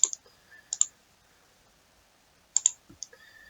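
Mouse clicks on a delete button in a PHP and MySQL membership web form, heard as sharp double clicks at the start, again near the middle, and a few more near the end, close and clear with quiet gaps between.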